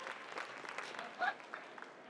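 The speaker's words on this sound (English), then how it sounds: "round of applause one more time," Applause from a convention crowd at Nostalgia Con Anaheim 2025, a fairly faint, distant patter of clapping mixed with crowd murmur and a voice, with one brief louder swell.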